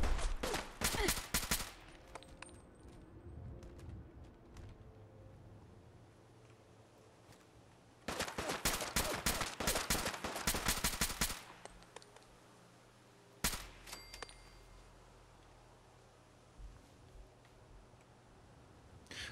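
Enemies in Fallout 4 fire guns loaded with .38 ammunition: rapid, sharp bursts of gunshots come in several clusters with quieter gaps between them, plus a few isolated single cracks.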